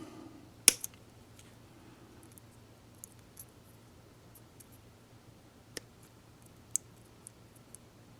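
Heat shrink tubing trimmed back on a wire during a DCC decoder install on a Bachmann model locomotive: one sharp close snip near the start, then a few faint scattered ticks and clicks in a quiet room.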